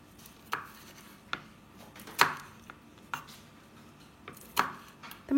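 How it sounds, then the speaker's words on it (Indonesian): A knife slices six red chilies lengthwise on a cutting board, several sharp separate chops spaced irregularly and heard up close, with no talking. "Untuk cabai merahnya saya pakai 6 buah, dipotong memanjang seperti ini."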